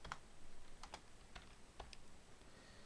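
Computer keyboard typing code in a Unity 2D game tutorial: a handful of quiet, separate key clicks in an uneven rhythm, close to the microphone, alone in the clip.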